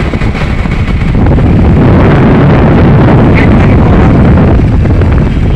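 Wind roaring over the microphone while riding pillion on a motorbike through an industrial area, a loud, constant low buffeting rumble that fills the whole clip.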